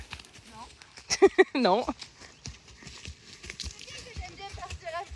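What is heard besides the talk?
pony hooves clip-clopping while walking on a trail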